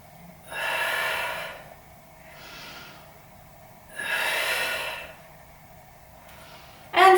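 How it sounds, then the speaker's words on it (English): Deep, audible breaths during a Pilates back stretch, two long loud exhales alternating with softer inhales, close and clear with a slow even rhythm and a sharp breath at the end. "Breathe out. Breathe in. Breathe out."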